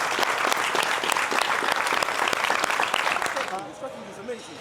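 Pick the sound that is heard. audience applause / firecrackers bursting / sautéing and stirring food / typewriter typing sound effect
audience applause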